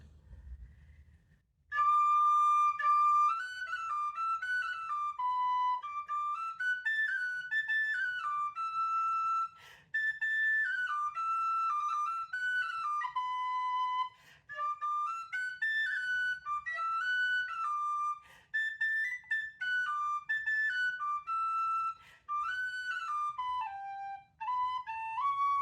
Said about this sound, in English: it's such an easy song to play on a tin whistle.